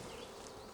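Honeybees hum at their hive during an inspection, a faint, continuous buzzing that stays soft and steady for a brief moment.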